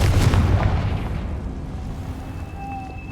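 A Confringo fire spell explodes in the Hogwarts Legacy video game, a loud, close blast that rumbles heavily and then decays into a fading crackling tail.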